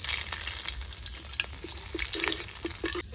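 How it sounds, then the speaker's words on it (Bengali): Whole bay leaves hit hot mustard oil for chicken khichuri, giving a steady, close sizzle with scattered crackles and pops that run unbroken for a few seconds, with no voices. "তেল গরম হয়ে গেছে এবার গোটা তেজপাতা দিয়ে দিলাম"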